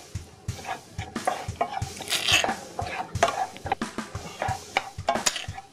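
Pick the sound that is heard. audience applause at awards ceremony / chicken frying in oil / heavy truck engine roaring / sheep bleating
chicken frying in oil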